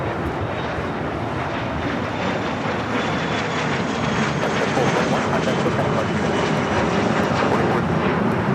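Jet airliner taking off from the south side runway at LAX, a loud, broad, continuous engine roar that holds steady for several seconds with no voices over it.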